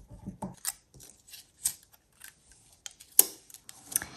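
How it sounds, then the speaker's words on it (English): Scissors cutting stems for a flamingo craft: a sparse series of quiet, crisp snips and small clicks with short pauses between them, close by. "It's very easy to cut with scissors."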